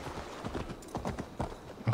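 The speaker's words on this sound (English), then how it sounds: "It's a goddamn horse, Jonas." Horse hooves clip-clop in a steady rhythmic gait in the video game Assassin's Creed Valhalla, fairly close and clear with no talk over them.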